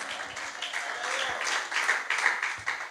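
A church congregation applauding during a Sunday morning service, moderately loud scattered clapping that builds slightly toward the end, with some voices mixed in.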